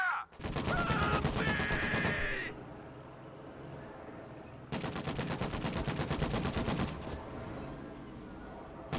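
Bursts of machine gun fire in a World War II real-time strategy match with US forces, loud rapid volleys for about two seconds, then a second sustained burst after a pause, with fainter battle noise between.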